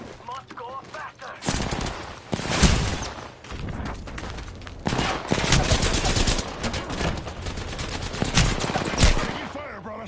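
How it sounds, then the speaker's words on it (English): Rapid bursts of automatic gunfire and heavy shots in a video game shooter crackle loudly in repeated volleys after a brief quieter opening, with faint voices mixed underneath. "Getting shot at. Taking fire, brother."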